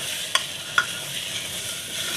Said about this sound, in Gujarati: તો આપણે આ દાળ નાખી દીધી છે એને આપણે જરીક હલાવી લેશું